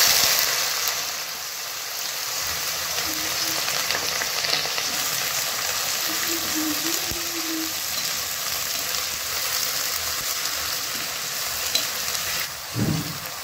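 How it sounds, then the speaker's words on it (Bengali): Carrots hiss and crackle in hot oil in a kadai (wok) for fried rice, a steady close sizzle with occasional stirring scrapes and a clink near the end. "তেল গরম হয়ে গেছে কড়াতে, এখন আমি গাজর আর বিনসটা ভেজে নেব।"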